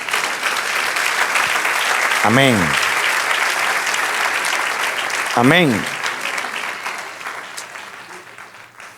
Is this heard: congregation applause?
yes